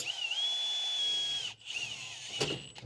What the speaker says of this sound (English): Definitely gonna drill it in the wrong spot.